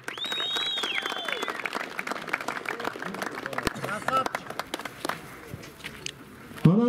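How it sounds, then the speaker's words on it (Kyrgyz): Audience at an award ceremony for a kok-boru community event clapping in sustained applause, crowd noise and scattered voices underneath, with a short whistle-like tone near the start. "Бир кол чаап коюңуздар"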